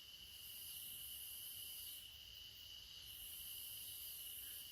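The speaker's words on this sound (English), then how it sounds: "The cicadas." A steady, high-pitched drone of cicadas buzzing in summer woods fills the whole stretch without pause at a constant, fairly faint level.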